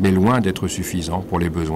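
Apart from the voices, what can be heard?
No everyday noises stand out.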